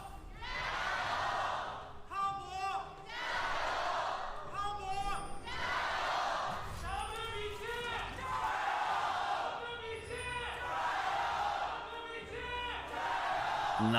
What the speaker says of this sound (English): You'll hear one person in the crowd say, your team's name, WBG, or Top Esports, or JDG